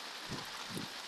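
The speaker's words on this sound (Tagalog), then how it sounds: "Ayan mga guys, sobra-sobra talagang ulan." Heavy rain pouring steadily in an outdoor setting with no wind, a dense, even hiss close by with a couple of soft low thumps underneath.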